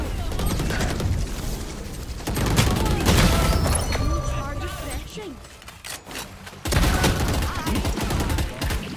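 Rapid gunfire bursts in the video game Valorant, repeated volleys and impacts layered with game effects, loud and close throughout, with a voice talking over parts of it.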